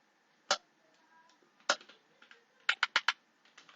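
A computer keyboard is tapped close by in sparse, crisp clicks: single keystrokes spaced apart, then a quick burst of four presses, all fairly faint against a quiet room.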